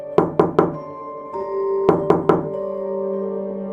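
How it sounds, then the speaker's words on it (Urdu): Knocking from the back of a house as a horror sound effect: two sets of three sharp, evenly spaced knocks, close and loud, with a low hum lingering between and after them. "گھر کے پچھلے حصے سے بالکل ویسی ہی 3 دستکیں سنائی دیں"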